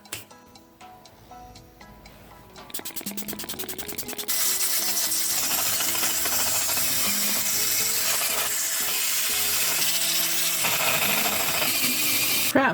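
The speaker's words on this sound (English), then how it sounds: "The sander I use, the Let's Resin one, it makes life so much easier." An electric sander works over epoxy abalone trays. Quiet ticking and scraping come first, then the motor starts with a rising whir and settles into a loud, steady grinding hum. Brief lulls and light clicks break it near the end.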